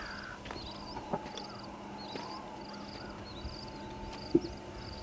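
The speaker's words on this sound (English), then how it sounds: "Look at the ravens and crows fly." Ravens and crows cawing in the Western video game Red Dead Redemption, several harsh caws spaced through the scene at middling distance over a steady low ambient hum, with a sharper nearer caw toward the end.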